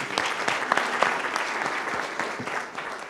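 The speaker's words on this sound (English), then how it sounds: "Let's give them a round of applause." Applause from the audience at a community candidate forum held on a rainy day, many hands clapping close by in a lively burst that gradually eases.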